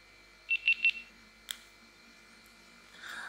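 A GoPro Hero 7 action camera powers on with three quick rising electronic beeps, followed by a single sharp click, then a soft whir near the end. The sounds are close and clear over near silence.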